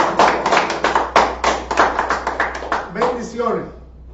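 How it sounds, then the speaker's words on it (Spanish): Studio audience clapping on a Spanish-language midday show, a fast run of sharp, close hand claps over a few seconds with a voice talking over and after them. "Aplausos para tu hermano."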